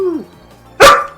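A dog gives a single loud, sharp bark indoors after a brief whine, close to the microphone.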